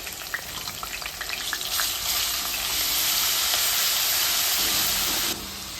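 Ginger-garlic paste, red chillies, cloves, cinnamon and black pepper hiss and sizzle in hot oil in a pan for street-style pulao, a steady, close frying crackle that swells louder midway.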